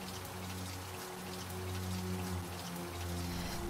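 Steady rain patters down in a continuous hiss, with a low droning hum running underneath throughout.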